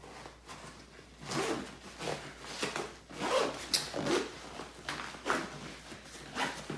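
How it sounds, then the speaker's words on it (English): A bag zipper is pulled in several quick, scratchy strokes close up, with brief pauses between the runs. "So it has this zipper here."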